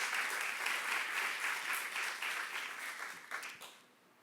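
A church congregation at a youth worship service claps together in sustained, even applause that carries for about three and a half seconds, then fades out near the end.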